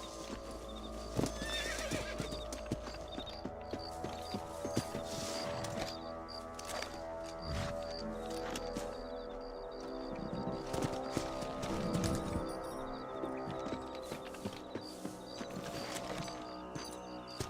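Horses trot in Red Dead Redemption, their hooves clip-clopping in a steady rhythm close by over a quiet outdoor ambience, with occasional neighs and whinnies breaking through.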